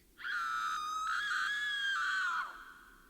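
A loud, sustained high scream in an animated horror story about an Airbnb stay, holding for about two seconds before trailing off.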